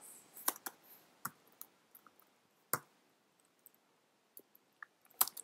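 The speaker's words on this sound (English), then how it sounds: "Now start typing" Sparse, quiet clicks of computer keyboard keys being pressed, irregular and close, with short pauses between bursts and no voices.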